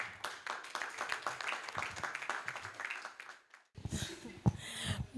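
Audience applause for Madame Manga at a family celebration, a burst of clapping and cheering that fades briefly before swelling again, fairly faint and distant in the room.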